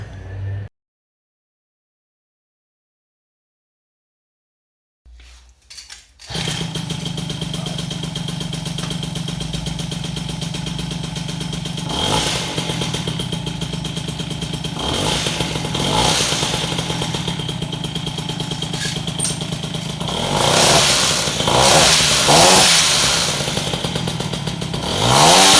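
After a few seconds of silence, an MBK 51 moped fitted with an Athena exhaust sputters to life and settles into a buzzy, rattling two-stroke run, revving up a few times, loud and close.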